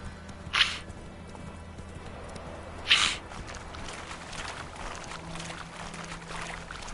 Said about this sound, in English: Alright, let's go, Roach